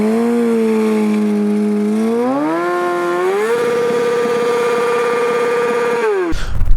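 A motorcycle engine holds high revs during a burnout with the front brake held, a steady droning whine that climbs in pitch in two steps before cutting off abruptly, followed by a brief rough burst.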